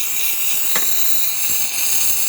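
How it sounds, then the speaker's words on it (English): Steady, strong hiss of steam jetting from the steam wand of a DeLonghi Prima Donna espresso machine, close and continuous, with faint clicks underneath. "nice steady steam coming out of the machine"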